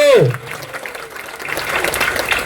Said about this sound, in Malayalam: ഇതിന് നിങ്ങൾ കൈയടിച്ചോ?